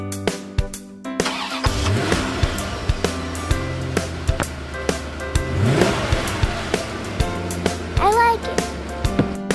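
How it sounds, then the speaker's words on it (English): Cartoon bulldozer engine cranking to life after sharp clicks, then revving in rising and falling bursts amid clattering toy-like effects, with a voice heard briefly. "Bulldozer."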